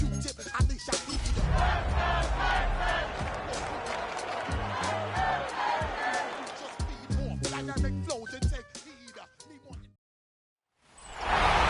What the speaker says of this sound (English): A great crowd on hand to battle the raindrops at Nissan Stadium in Nashville.